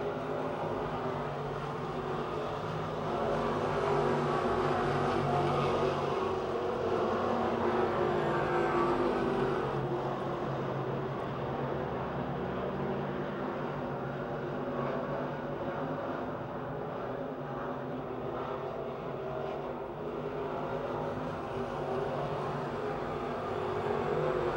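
Race cars circle a speedway oval, a dense continuous roar of several engines blending together at a steady, loud level.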